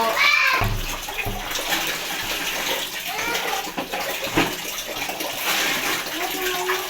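Tap water runs steadily into a container being filled for storage, a continuous close gushing splash, with children and adults talking intermittently over it.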